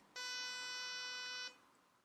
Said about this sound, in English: Here's a pulse train.